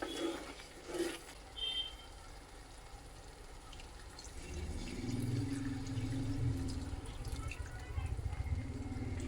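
Quiet clinks at first, then water pours steadily into a pot of Khandeshi shev bhaji curry, a soft gurgling stream lasting several seconds before tapering off.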